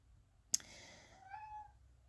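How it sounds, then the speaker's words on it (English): A single cat meow with a rising then falling tone, fairly faint and alone, preceded by a sharp click. "Sorry if you can hear my cat Noodles, she's just talking to me."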